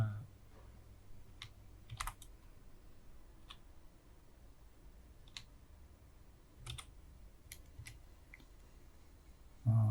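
Keys tapped on a computer keyboard in scattered bursts of clicks, close and fairly quiet, with short pauses between groups of keystrokes and faint speech traces.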